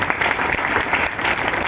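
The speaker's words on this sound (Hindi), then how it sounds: "आप बैठ के ताली बजा रहे हो" Audience applause from a seated crowd at a motivational event in Ayodhya, steady dense clapping throughout at close range, filling the room without pause.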